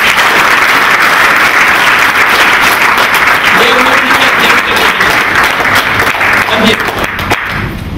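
Audience clapping during a spiritual talk at a meditation center, a loud, full round of applause from a crowd that stays strong before gradually fading near the end.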